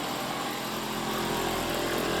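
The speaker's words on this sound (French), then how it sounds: "il suffit de prendre une scie sauteuse." A jigsaw cuts through a wooden desk panel with a loud, continuous, harsh buzzing roar that stays steady throughout, close and alone.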